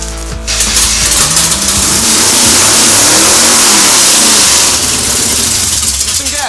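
A low, custom-built car engine cranks and catches, then roars into sustained, very loud revving that fills the whole stretch at close range.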